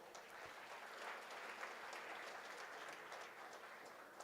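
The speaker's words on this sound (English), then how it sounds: "you should clap for your parents." Faint applause rises from an audience at a college freshers day program, a steady wash of distant clapping that continues evenly throughout.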